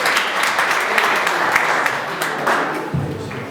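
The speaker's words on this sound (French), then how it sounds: "On applaudit très fort s'il vous plaît pour Alexandre." Crowd applause at an African gala party in Moscow, sustained clapping across the room with a voice talking over it and a low thump near the end.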